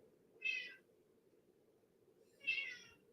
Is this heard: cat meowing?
yes